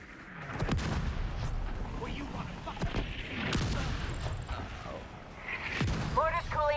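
Mortar artillery fire in a shooter video game, several sharp distant-sounding thuds and booms spread through a busy battle, under voices talking and occasional chirping electronic alerts.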